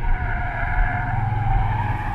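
Tires on a Jaguar I-Pace electric car squeal hard and continuously while cornering aggressively through a roundabout, a loud sustained screech over a low road rumble.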